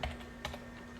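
Router commands typed on a computer keyboard come through as a few soft, close keystroke clicks in a short quiet burst, with no talking.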